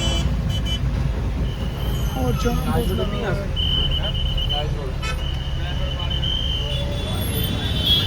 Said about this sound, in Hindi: इतना तगड़ा ट्रैफिक जाम है ना